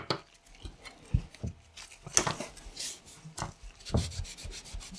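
Fingers or a cloth rubbing sticky paint on the plastic battery cover of an Alcatel OT C701 phone, soft irregular scuffing and squeaky drags, close and quiet, with no talk.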